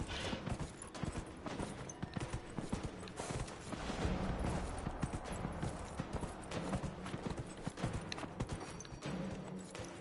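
Rapid, continuous hoofbeats of a galloping horse in Dragon Age: Inquisition pound steadily for the whole stretch, dense and rhythmic with game-like clatter.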